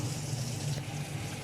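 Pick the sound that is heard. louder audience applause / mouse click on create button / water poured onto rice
water poured onto rice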